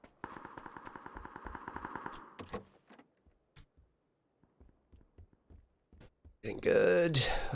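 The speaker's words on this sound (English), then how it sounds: "I think that's just far away gunshots." A rapid burst of distant gunfire in PUBG rattles for a couple of seconds, followed by scattered sharp pops and thuds, then a loud rushing blast near the end.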